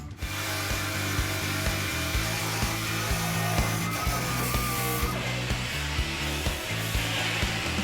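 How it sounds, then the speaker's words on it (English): A crud buster disc grinds paint and seam sealer off a classic Camaro's metal floor in a continuous, loud abrasive whir, with faint knocks and shifts in tone as the tool moves across the surface. "We're using the crud buster because it doesn't remove any of the actual material or metal from the floor."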